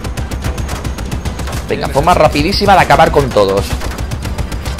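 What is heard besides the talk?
turret gunfire in the video game Just Cause 3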